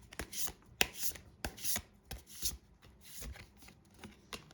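Tarot cards are shuffled by hand at close range, a series of soft riffling and slapping bursts with brief gaps between them.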